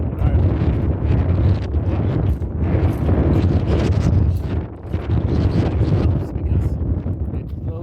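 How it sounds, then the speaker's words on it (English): Strong gusting wind buffets the microphone with a loud, continuous low roar on an exposed coastal clifftop at Dun Aonghasa, Inis Mor, Ireland, rising and easing in waves. "The wind picked up all of a sudden. It got very, very windy"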